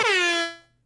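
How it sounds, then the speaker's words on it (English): A single loud air horn blast, bright and brassy, holding for about half a second before cutting off and fading quickly into silence. "That was not the correct area for an air horn."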